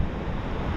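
Big ocean waves on a rough shoreline, a dense roaring wash of surf blended with wind buffeting the microphone, loud and continuous.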